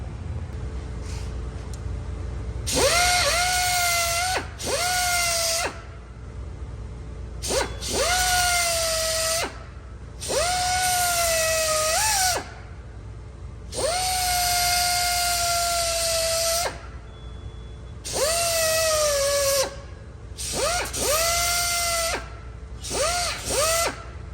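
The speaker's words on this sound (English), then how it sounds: "I'm actually just gonna grind the tits of this down so that they're a little more able to fit right into those holes" Grinder working down the tabs of a snap ring on a Ford F-250 front axle during u-joint and axle seal work, heard as repeated loud bursts of a few seconds each, whining as the motor spins up and bogs under load, with short pauses between passes.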